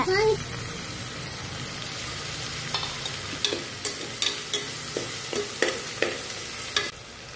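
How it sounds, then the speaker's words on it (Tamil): Tomato and green chili sautéing in a pan for mushroom biryani, a steady sizzle with a series of sharp spoon knocks and scrapes against the pan, close by, with a brief voice at the start. "தக்காளி, பச்சை மிளகாய் போட்டு வதக்கிக்கோங்க."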